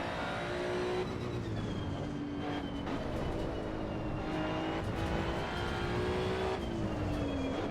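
A race car engine in Assetto Corsa Evo played with a controller, a loud continuous engine whine whose pitch rises and falls with the gear changes and the braking, steady and close throughout.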